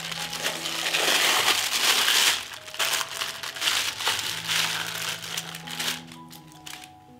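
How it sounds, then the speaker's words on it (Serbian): A plastic bag crinkles and rustles loudly up close as bacon smoked with dried plum and onion skins is pulled out of it, with irregular crackling bursts. "I izvadit ćemo slaninu iz kese."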